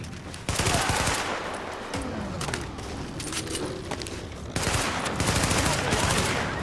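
Gunfire in the shooter game The Division, with rapid overlapping shots and crackling impacts over a dense, continuous background of game noise.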